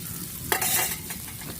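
Spiced masala for a Kottayam-style tuna curry frying in a pan, a burst of sizzling and stirring that swells briefly mid-clip, then settles back to a steady low crackle.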